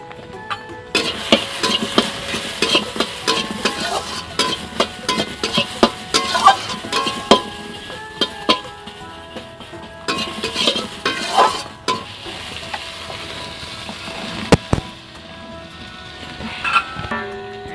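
Pointed gourd (potol) frying in oil in a wok with turmeric, continuous close sizzling crackle punctuated by frequent sharp scrapes and taps of a spatula against the pan, no voices.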